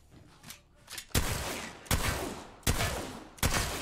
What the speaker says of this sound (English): Look how fast the master shoots with purple bolt.